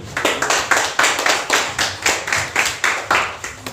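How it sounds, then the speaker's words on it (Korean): At a middle school gifted-class presentation ceremony, an audience claps in unison at a steady, quick beat, roughly three claps per second, sharp and evenly spaced throughout. "그동안 토요일도 없이 노력한 학생들에게 다시 한번 큰 박수 부탁드립니다."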